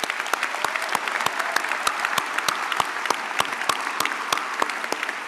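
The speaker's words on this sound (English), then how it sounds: "A round of applause for all these folks." Audience applause at a medical school convocation for the student chairs, steady clapping from a large crowd with sharp individual claps standing out, moderately distant, continuing evenly for several seconds.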